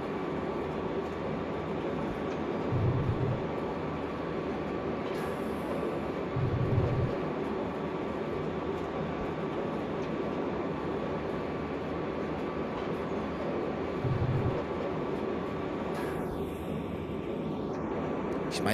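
Railjet train rolling through Tyrol in Train Simulator Classic: a continuous broad rumble of running gear with periodic low thumps from wheels over rail joints, steady and fairly close, with no talk.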